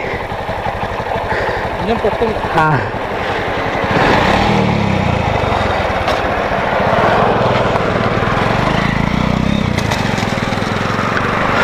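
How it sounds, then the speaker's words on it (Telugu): A motorcycle engine that had been giving trouble cranks, catches on petrol and then keeps running loudly and steadily at close range, with voices talking over it. "పెట్రోల్గా ఇంజన్ పట్టుకుంది"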